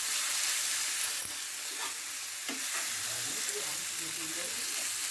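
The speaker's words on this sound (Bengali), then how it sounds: "এবার দিয়ে দিলাম আদা ও রসুন বাটা। তেলের মধ্যে হালকা ভেজে নিচ্ছি আমি।" Ginger and garlic paste lightly frying in oil for a sea fish curry, a continuous close sizzle with a few stirring scrapes and faint pops, no speech.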